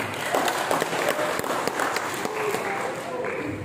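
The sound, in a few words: audience applause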